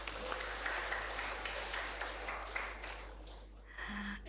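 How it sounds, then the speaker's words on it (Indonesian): A church congregation applauding, with diffuse clapping spread through a reverberant hall and a faint low hum beneath, fading toward the end. "Tepuk tangan untuk Tuhan."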